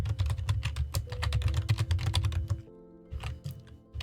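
Fast typing on a computer keyboard, a close, steady rattle of key clicks for about two and a half seconds, then a brief pause and a few more scattered keystrokes.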